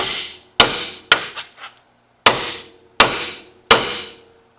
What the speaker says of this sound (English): I could keep hitting that with a hammer and I could successfully drive that ball joint all the way in.